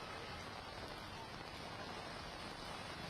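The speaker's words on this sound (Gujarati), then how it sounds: "સુરત શહેરમાં વિવિધ વિસ્તારોમાં ગાજવીજ સાથે ધોધમાર વરસાદ વરસી રહ્યો છે" Heavy rain pours down over Surat city as a steady, even hiss of drops beating on surfaces. It is faint and unbroken, with no distinct thunderclap.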